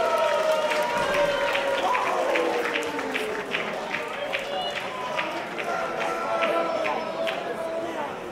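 A boisterous wrestling crowd at a wXw show in Hamburg keeps up a loud, continuous roar of cheering and rhythmic clapping and chanting, with a commentator talking over it throughout.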